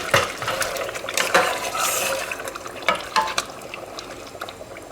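Chicken bhuni cooking in the water it has released, with a steady bubbling sizzle, intermittent stirring scrapes and clinks close by, and no voices.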